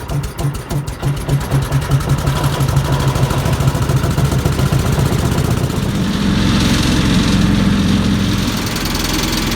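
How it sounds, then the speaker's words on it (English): An air compressor starts up with fast pulsing chugs and settles into a loud, steady mechanical drone, nearby and with no talking. "I'll go over here and get the air compressor going."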